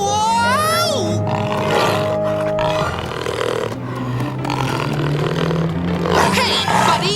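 A cartoon tiger lets out a loud, drawn-out roar with growling grunts, mixed with a whooshing effect, exclamations and lively animated soundtrack noise.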